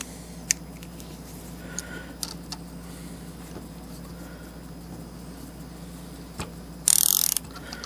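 Socket wrench ratcheting during a repair with a Harbor Freight plastic welder, with scattered faint clicks and clunks close by and a short, louder burst of rapid ratcheting near the end, with no speech.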